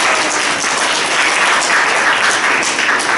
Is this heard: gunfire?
no